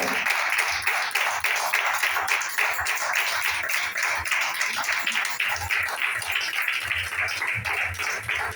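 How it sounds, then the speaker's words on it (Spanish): A church congregation clapping steadily and loudly throughout, a dense continuous wash of many hands with a faint low rhythmic pulse beneath. "dale fuerte las palmas a Cristo"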